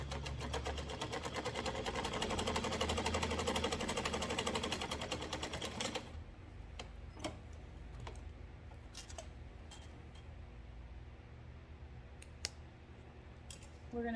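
A sewing machine top-stitches along the edge of a fabric key fob, running fast and loud with a steady needle hum for six seconds, then stops, leaving scattered clicks and faint handling noises.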